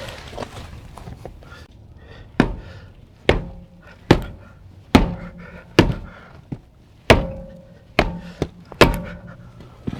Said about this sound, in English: If it's been a while since you've had the wheel off, you may need to bop it a little on each side.